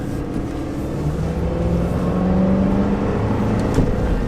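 A 2004 Ford F-150 pickup with a 5.4 V8 and four-speed automatic accelerating, a steady low engine drone heard from inside the cab that rises gradually in pitch, no talking.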